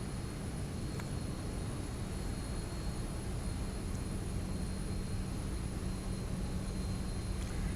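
A Boeing 737 taxis in the flight simulator X-Plane, its jet engines producing a continuous, even low roar with a faint high whine, steady and loud throughout with no talk.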